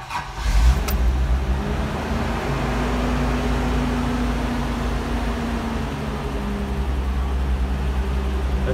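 A Toyota Land Cruiser 45 with a 2F petrol engine catches right away on a dark cold start after choke and throttle pumping, then settles into a steady, loud, rumbling idle that runs on continuously.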